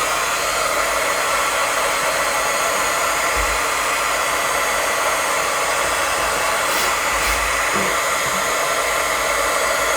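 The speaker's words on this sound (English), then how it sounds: "It helps to heat the gun up beforehand so that you can just start melting." Heat gun blowing steadily to melt embossing powder for a craft project, a loud continuous whooshing hiss with no pauses, close to the microphone, with no voices.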